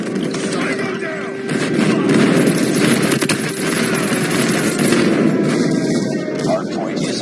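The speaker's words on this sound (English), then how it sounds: "Friendly airstrike incoming." In a Call of Duty Mobile match on a sawmill map, dense gunfire crackles continuously alongside heavy airstrike booms, all loud and close, with a radio voice talking over the action.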